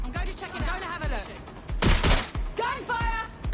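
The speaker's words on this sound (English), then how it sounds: "Gunfire!" Gunfire crackles in a short burst in the middle, while voices talk before and after it.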